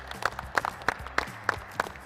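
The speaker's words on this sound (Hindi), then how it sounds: "एक बार जोर से तालियां बजाओ।" A small group claps for an under-19 girls' cricket team, runners-up in a national tournament from Himachal Pradesh, with distinct rhythmic claps in quick succession, fairly near and moderately loud.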